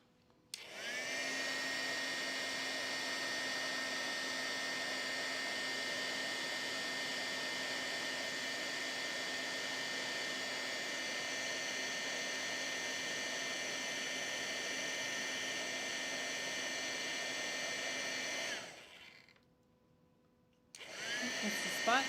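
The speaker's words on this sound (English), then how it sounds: "And then we use my heat gun to emboss this." A heat gun embosses a craft project, blowing with a steady, even whirring hiss for about eighteen seconds before cutting off, then starting again briefly.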